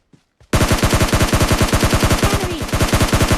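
Sustained rapid automatic fire from an Uzi in a battle royale shooter, after a couple of brief faint sounds. Loud, close and continuous, with evenly spaced rapid shots for about three seconds and no talk.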